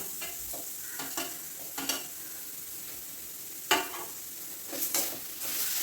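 Green chillies and tomatoes sauté in a pan with a soft, steady sizzle and a few scattered stirring scrapes against the metal, close but fairly quiet.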